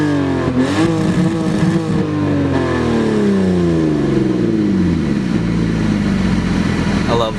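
A car accelerates hard through several gear changes, its engine note climbing and dropping in repeated sweeps, loud and close, with voices faintly under it.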